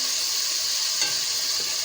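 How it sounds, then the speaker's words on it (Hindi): A spoon stirs tomato and onion masala sizzling in a pan for ridge gourd sabzi, giving a steady close frying hiss with a soft scrape or two. "साथ ही हम चम्मच चला देंगे।"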